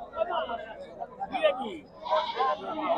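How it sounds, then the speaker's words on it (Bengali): A male goat bleats several times in wavering cries at a busy goat market, close by, with a murmur of crowd chatter underneath. "পাঠা ছাগল,"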